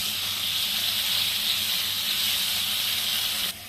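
Ingredients for a kadhai-made pizza roast lightly in a pan, producing an even, close hiss that holds steady and then drops off abruptly near the end.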